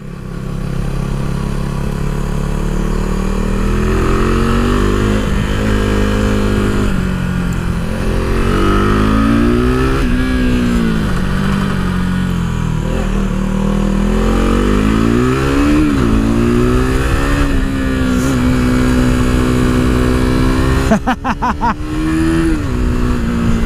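A KTM RC390 motorcycle engine revs hard while riding, its pitch rising and falling through repeated acceleration runs, loud and close with wind rush throughout and a brief clatter near the end.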